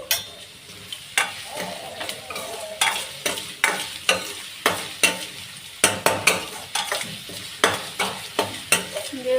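Egg curry masala stirred and frying in a hot pan, with a steady sizzle broken by repeated sharp scraping strokes of a spoon against the pan at a regular rhythm, close and fairly loud, with no voices.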